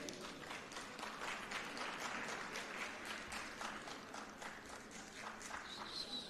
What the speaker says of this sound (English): please have a big round of applause for them